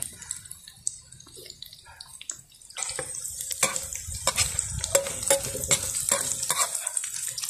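Food sautéed in a pan over a charcoal fire at medium heat, a quiet start followed by a steady sizzle with repeated stirring and scraping strokes, close and continuous.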